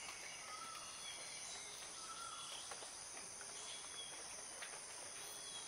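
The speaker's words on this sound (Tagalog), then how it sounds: "pakinggan nyo muna yung mga huni ng ibon" Faint outdoor mountain ambience with scattered high chirps from birds and a steady insect-like buzz, no talking.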